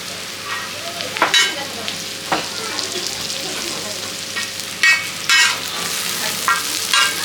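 Onion, tomato, carrot and capsicum stir-fry for hakka noodles with chicken and egg. A steady close sizzle runs throughout, broken by sharp scrapes and clatters of a spatula against the pan, with no talk.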